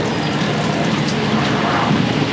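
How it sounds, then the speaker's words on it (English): Steady rain falling at an RV campground in Bowling Green, a dense hiss of drops hitting surfaces close by, constant throughout with no voices. "Getting the setup in the rain."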